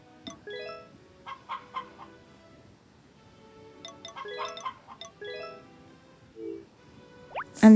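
Hens clucking in the Harvest Moon farming video game, a few short bursts of clucks and chime-like game sounds, fairly clear with quiet gaps between them and no talk.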